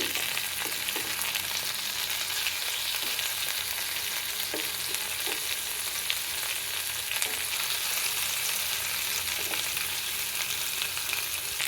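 Stuffed beetroot and tomatoes fry in a pan with a loud, constant hiss of hot oil, broken by a few soft clicks and pops from stirring, close up and with no one speaking.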